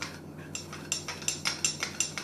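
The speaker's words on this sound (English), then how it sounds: "So you really do need to whisk it," Herbal tea whisked until frothy: a quick, steady run of light metallic clinks and scrapes, about eight strokes in two seconds, close and moderately loud, with no voices.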